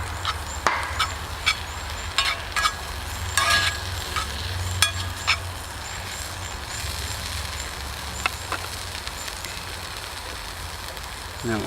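Pork pieces stirred in a skillet at an outdoor camp kitchen, giving steady sizzling with scraping and clinking accents, heard close alongside some background voices.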